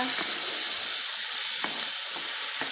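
Chicken cream sizzles loudly and steadily in potato-flavoured frying oil while being stirred, with a few soft scraping strokes of the spoon heard over the continuous hiss.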